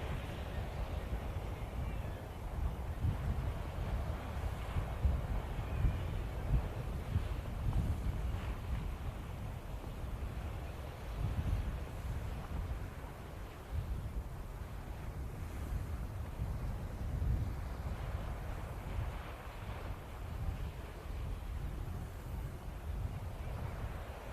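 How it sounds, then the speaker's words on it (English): Strong wind batters the microphone at a coastal golf course, with continuous low rumbling gusts that rise and fall throughout. A voice can be heard faintly underneath. "I'm getting absolutely battered by the wind here."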